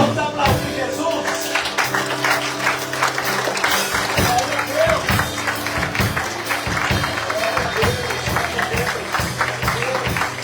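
A church congregation applauds during a celebration service, with dense rhythmic clapping over sustained music and voices that continue throughout.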